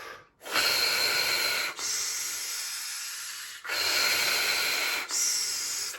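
Several forceful, hissing exhalations through a breath trainer, each a long airy rush separated by short pauses.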